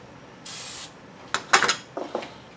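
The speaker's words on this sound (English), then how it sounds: "Just a little bit of cooking spray in there" Cooking spray hissing from an aerosol can onto a formed hamburger patty, made up of one steady burst followed by a few short, close spritzes and light clinks.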